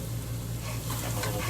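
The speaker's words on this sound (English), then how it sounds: "The garlic's in. Stirring it." Garlic fries in butter in a pan while being stirred, giving a constant sizzle with a low hum underneath and soft scraping in the second half, close and even in level.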